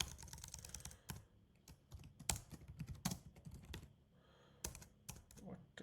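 Computer keyboard typing in bursts, crisp close key clacks in irregular clusters separated by short pauses, fairly quiet overall.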